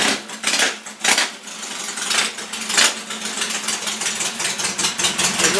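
A 1968 Triumph chopper motorcycle engine with straight pipes and no mufflers runs loud and close after a cold start, its uneven rumble overlaid with clattering, clanking bursts.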